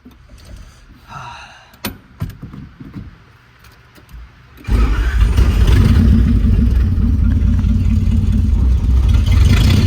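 Engine of a Nissan S14 driving on uneven gravel, with quiet rustling and small knocks before the engine abruptly rises to a loud, steady, close-up drone with gravel rumble that holds to the end.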